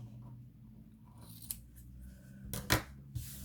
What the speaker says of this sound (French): Moi, je découpe celui-là pour recoller par-dessus.